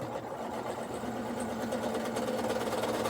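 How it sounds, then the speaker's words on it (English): A sewing machine stitches fabric steadily, its motor humming and needle thumping in a fast, even rhythm, close by with no voices, while its bobbin thread runs low. "Sounds like I'm getting low on bobbin thread here."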